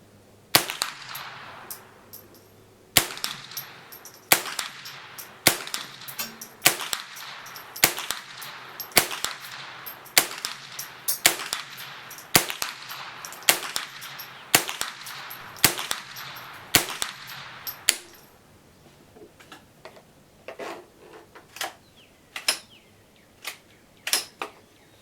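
A Remington Nylon 66 .22 rifle firing Remington gold standard .22 ammunition, about fifteen sharp, close report cracks at irregular intervals, followed by a few quieter clicks and clatters of the action.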